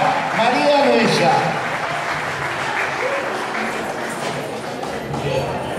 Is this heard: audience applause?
yes